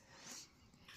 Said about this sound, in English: That's my dog at the back door.